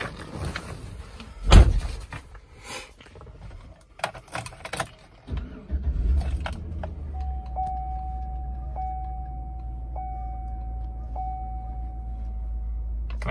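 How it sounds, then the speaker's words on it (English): A GMC Yukon SLT is entered and started: keys jangle, a door thuds shut, then the engine turns over and settles into a steady low idle while soft warning chimes repeat at regular intervals. "Go ahead and get in and start this vehicle up for you."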